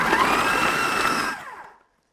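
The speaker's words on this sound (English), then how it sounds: "I'm just gonna blend that one on high." A blender runs on high, whirring loudly as it purees roughly chopped carrots and celery, then winds down and falls silent near the end.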